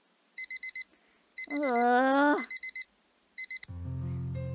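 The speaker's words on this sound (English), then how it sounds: "The blaring of my alarm clock echoed loudly in my ear and through my room" A video game alarm clock beeps in quick groups of four, then resumes after a long, groaning voice cuts in, before bright music starts at the end.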